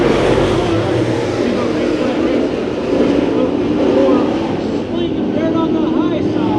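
Late model race cars at Santa Maria Raceway roaring together as they accelerate at the green flag, a loud continuous engine drone from the pack, with an announcer talking over it.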